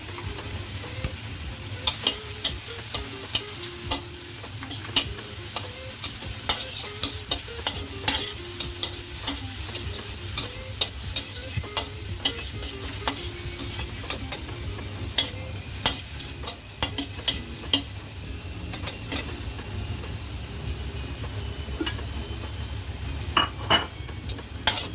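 Carrots being stir-fried for egg fried rice, a continuous soft sizzle under frequent scraping and clinking of a spatula against the pan, close and moderately quiet.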